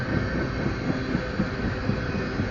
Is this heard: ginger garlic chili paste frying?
no